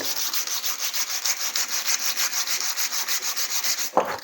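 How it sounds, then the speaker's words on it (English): Hand sanding wood with a small piece of sandpaper, smoothing burnt marks from a laser-marked mortise; steady rhythmic back-and-forth rasping strokes, close and fairly loud, ending with a brief knock. "just take a little bit of sandpaper and"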